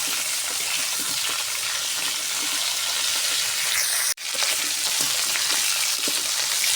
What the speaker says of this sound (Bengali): আমি আলু আর ফুলকপিগুলো সুন্দর করে ভাজিয়ে নিব হালকা করে